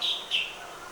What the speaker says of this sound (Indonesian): terlihat sepasang burung-burung maleo sedang bertelur di sarangnya.